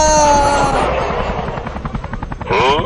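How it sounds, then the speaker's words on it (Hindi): A helicopter passes overhead, its rotor thudding in a steady rapid pulse under a loud engine whine, with a rising tonal sweep near the end. "अरे हेलीकॉप्टर की आवाज।"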